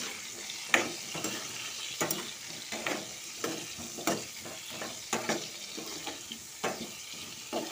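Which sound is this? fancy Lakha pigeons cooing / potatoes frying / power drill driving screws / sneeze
potatoes frying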